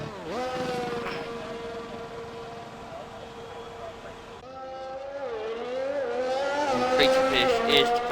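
Engine of a race car in an F1 racing video game at the Mexico track, a sustained whining drone that rises and shifts in pitch as it accelerates, with a commentator talking over it throughout.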